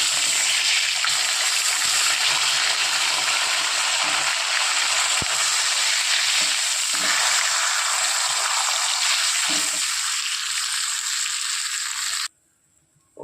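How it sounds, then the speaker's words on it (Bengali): Catla fish pieces fry in oil for a yogurt-based curry, giving a continuous moderate sizzling hiss with faint clinks, ending in near silence for the final second. "ওই তেলেই বাদ বাকি মাছগুলো ভেজে নেব।"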